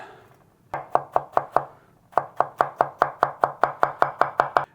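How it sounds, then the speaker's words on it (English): A knife finely chopping fresh ginger on a cutting board, with a quick run of five sharp close knocks, a short pause, then a longer even series of rhythmic chops and no talk. "finely chop it down and put it in with the onions"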